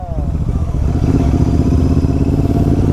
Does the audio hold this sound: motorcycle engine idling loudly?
yes